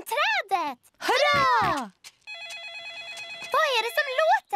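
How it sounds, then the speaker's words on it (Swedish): Daddy Pig's mobile phone in the Peppa Pig cartoon rings with a steady electronic warbling tone, heard between cartoon character voices speaking and groaning before and after it. "Pappa gris mobiltelefon ringer."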